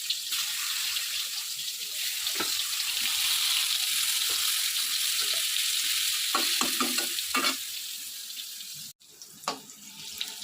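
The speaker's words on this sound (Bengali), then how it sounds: "আর এদিকে তেল গরম হয়ে গেছে, তো পটল ভাজাগুলো আমি বসিয়ে দিই।" Pointed gourd (potol) slices sizzle in hot oil, a steady close crackle with a few light utensil taps and stirring knocks toward the end.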